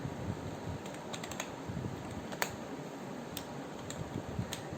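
Steady clicking of PHP code being typed on a computer keyboard, with irregular quick keystroke bursts and a few sharper taps over a low fan-like hum, close and moderately quiet.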